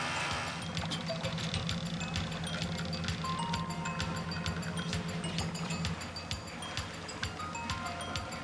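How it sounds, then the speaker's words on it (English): Dive boat engines running at a shark dive site, a steady low rhythmic throb with a mechanical ticking pulse that drops away near the end, fairly faint with scattered clicks. "the captain revs the boat's engines"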